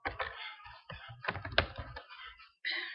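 Keys on a computer keyboard are typed in a quick, uneven run of close clicks while a file name is entered, with brief pauses between keystrokes.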